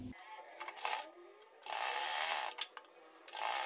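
Sewing machine stitching the border and neckline of a kurti, running in bursts of steady mechanical whirring with short pauses between runs.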